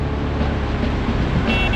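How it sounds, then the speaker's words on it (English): Arcade-style car engine and driving effects from Beetle Adventure Racing on the N64, a steady dense roar with a bright tonal layer joining near the end, loud and continuous with no talk. "the sound effects of the car bouncing, turning, screeching, and hitting objects and cars, really outstanding"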